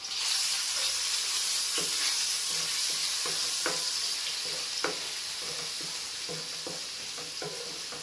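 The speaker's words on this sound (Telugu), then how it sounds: "ఉల్లిపాయ బాగా ఆయిల్లో మగ్గాలండి" Onion paste made from a small and a medium onion frying in oil, a steady close sizzle with scattered scraping clicks of stirring throughout.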